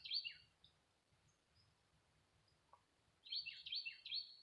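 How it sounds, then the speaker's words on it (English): Outdoors in woodland while hunting, a woodpecker gives two bursts of rapid, high-pitched call notes, faint and distant, with a quiet pause between them. "There's a woodpecker out there."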